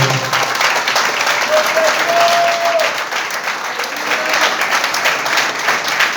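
A congregation-style audience bursts into loud, sustained applause, a thick, even wash of many hands clapping at once with no pause, alone apart from a brief faint tone.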